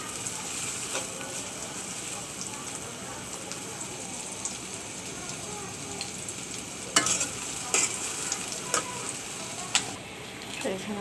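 Onions frying lightly in mustard oil in a wok give a steady soft sizzle with occasional clinks and stirring knocks, heard up close and continuous.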